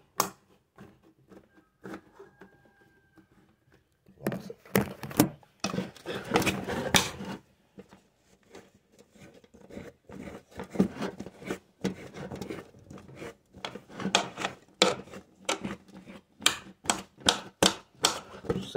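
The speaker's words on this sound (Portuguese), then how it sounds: "Vou dar uma amassada nele, tentar" Cooked beans for feijoada are mashed by hand, giving irregular bursts of soft thuds and squelchy knocks, close up, after a quiet start with a few faint clicks.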